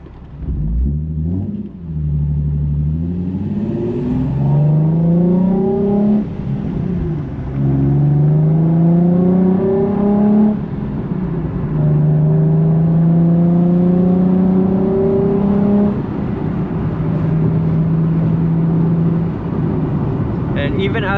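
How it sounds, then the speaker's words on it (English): A Nissan 370Z sports car with a manual gearbox drives along, its exhaust droning and humming as it revs up through several gears, each rise in pitch followed by a drop at the shift, loud and close. "hearing the exhaust hum and, you know, the slight drone I do have from my exhaust"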